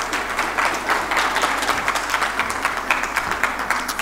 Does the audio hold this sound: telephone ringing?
no